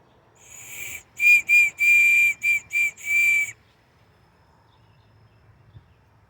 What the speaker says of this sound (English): There's also a whistle.